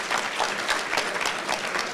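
Audience applause at an annual check presentation, a steady wash of many hands clapping that fills the whole moment with no break.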